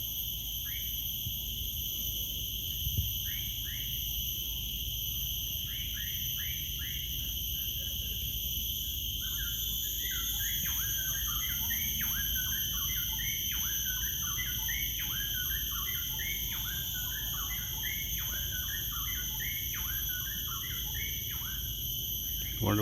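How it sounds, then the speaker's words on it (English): Repeated bright chirping bird calls ring out in quick bursts over a constant high-pitched insect whine, with several birds singing at a moderate distance in the mangrove wetlands of Sungei Buloh Wetland Reserve, along a coastal trail. "Wonderful bird sounds."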